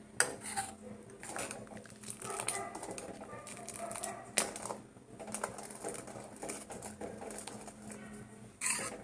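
Payesh, a milk rice pudding, is stirred continuously in a pot, producing quiet, irregular clinks and scrapes of a spoon against the metal, with a few sharper knocks.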